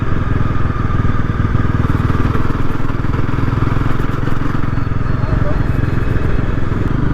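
A Bajaj Pulsar NS400Z 400cc motorcycle engine runs steadily and loudly while riding, a continuous low drone with a dense rumble.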